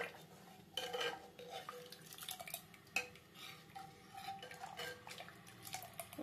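Lentil dal being stirred in a pot after cumin and coriander powder go in, a spoon scraping and clinking against the metal with soft liquid sloshing, steady close-up kitchen sounds with a few sharper knocks.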